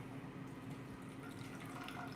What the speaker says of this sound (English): Add in a little bit of water.